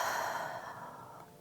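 A single soft exhale during a beginner vinyasa yoga flow, a quiet, close breath that trails away over about a second.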